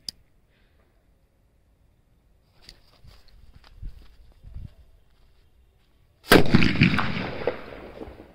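A sudden loud blast from a mini bullet bomb firecracker rings out after faint scuffing and small pops, its noisy burst trailing off over a couple of seconds.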